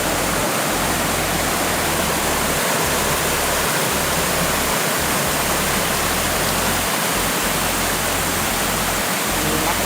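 Khlong Yot Nam waterfall in Nakhon Si Thammarat pours in a loud, steady, broadband rush of falling water, continuous and close throughout with no other sound standing out.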